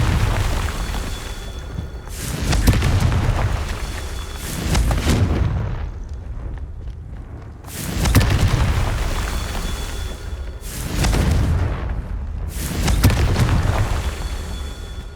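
Fire spell explosions in the video game Hogwarts Legacy, a series of loud booming blasts roughly every two to three seconds, each with a deep rumble that swells and fades, no talking.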